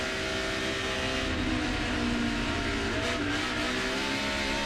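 Race car engines from a 2007 NASCAR Bank of America 500 practice session roar steadily and loudly, the revving holding continuous throughout with a slight swell near the middle, no talking over it.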